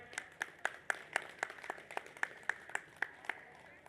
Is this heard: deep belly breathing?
no